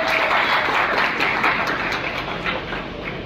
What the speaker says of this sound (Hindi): एक बार सभी बच्चों के लिए जोरदार ताली दें बॉडी बिल्डर्स के लिए।